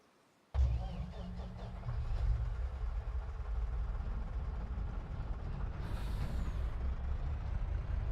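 A truck starts up and rolls off with a sudden loud hiss and a steady heavy engine rumble, with a brief air-brake hiss later, in the farming video game Farming Simulator 25.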